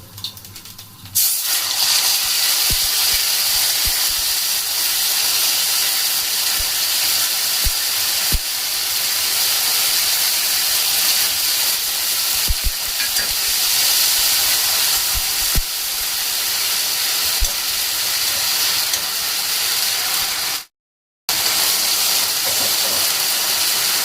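Ginger, cumin and green chili paste frying in a pan, a loud continuous hissing sizzle that runs nearly unbroken, with a brief cut near the end and no voices.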